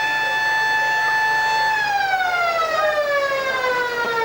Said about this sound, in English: And there's the siren for the end of third quarter